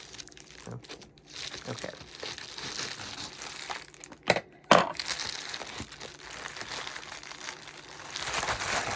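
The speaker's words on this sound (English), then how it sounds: "it says it opens at the top, but the package is down here, so I'm just gonna cut right here." Paper ink sample package being cut and torn open in an unboxing, with scattered crinkling and rustling, a couple of sharp louder snips midway, and a brief spoken word.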